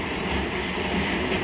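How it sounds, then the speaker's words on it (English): A train passes by, a loud steady rumble and rushing rail noise with faint clickety-clack, filling the whole moment without any talk. "Another train going by here."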